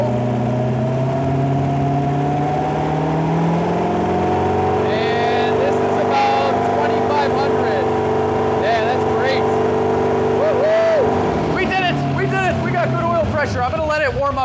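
LS V8-swapped Porsche 911 idling at full operating temperature with cooling fans running, a steady low engine drone continuing throughout, with people talking over it near the end.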